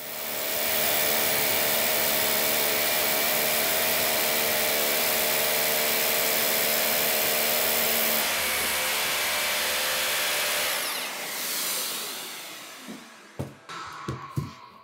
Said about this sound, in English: We drill 85 millimeter into concrete as per specification on the packaging.